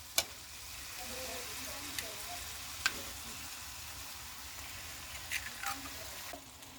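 Eggs frying on a low flame with garlic paste for a pasta dish, giving a steady soft sizzle close by with a few brief clinks and stirring scrapes from the pan.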